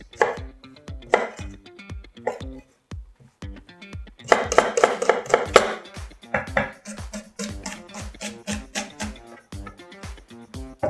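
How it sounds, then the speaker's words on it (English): A knife dices onions for vegetable soup with rapid, crisp taps on a chopping board. Bursts of quick strokes alternate with short pauses, close and clear, and no one speaks. "So, onions diced."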